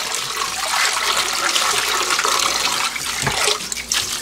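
Boiled dried bracken ferns are rinsed under running water at a kitchen sink, a loud, continuous rushing stream with some splashing and shifting as the ferns are handled.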